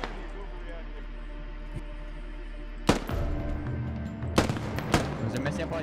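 MG3 machine gun laying down suppressing fire in the military shooter Squad during close-quarter combat in Fallujah; after a quiet stretch, loud, close bursts of gunfire crack out in several separate volleys.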